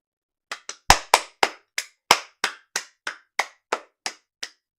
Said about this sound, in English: I'm gonna clap for myself